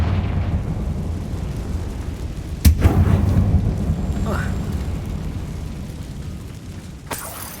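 A Confringo spell explosion in Hogwarts Legacy: a sharp crack followed by a loud, rumbling blast that decays over several seconds against a constant roaring game ambience, with a second smaller crack near the end.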